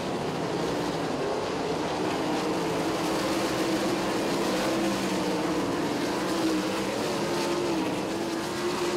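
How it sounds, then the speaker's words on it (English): 410 sprint cars race at Lincoln Speedway, a dense, steady roar of several engines howling together at close range for the whole stretch with no pause in volume. "Raymer, a wheelie off turn number four, gets by Kevler"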